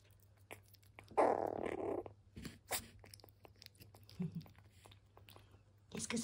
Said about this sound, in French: Elle grogne tout le temps.